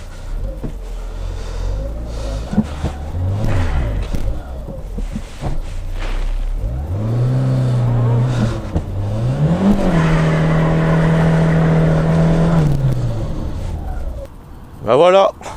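A front-wheel-drive car does a burnout, its engine revving hard and rising in pitch, falling off and climbing again to a long sustained high rev, with tire roar underneath and a brief burst near the end.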